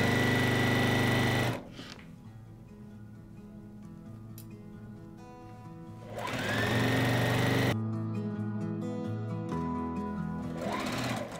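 Sewing machine stitching quilt pieces at a quarter-inch seam, a steady loud mechanical hum-rattle that stops, idles quietly with faint background tones, then runs again for long stretches.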